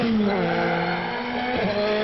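A racing car in the GTR video game drifts through a turn, its engine droning with shifting pitch and tires squealing briefly as it slides, loud and close throughout.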